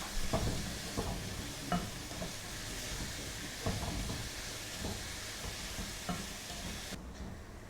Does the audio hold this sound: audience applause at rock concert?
no